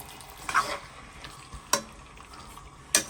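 Utensil scrapes and clatters against a pot of swordfish curry with tomato, with three distinct stirring strokes spaced across a faint, steady background hiss.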